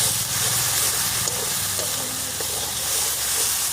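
Chili powder and spices fry and get stirred in hot oil for a Bengali rohu fish curry. A dense, continuous sizzle and hiss fills the clip, with faint scraping of the stirring spoon underneath.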